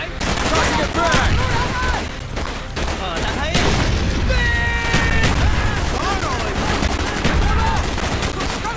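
A frag grenade blast amid continuous rifle and machine-gun fire in the Call of Duty: Black Ops campaign, loud and chaotic throughout, with shouting soldiers talking over the booming battle.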